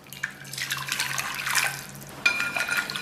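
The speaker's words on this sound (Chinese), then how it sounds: "加入320克的开水" Boiling water, 320 g of it, pours into a bowl holding salt, a close, continuous splashing stream that swells midway and briefly breaks before resuming near the end.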